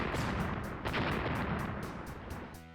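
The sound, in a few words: rocket and sticky bomb explosions from video game Badland Brawl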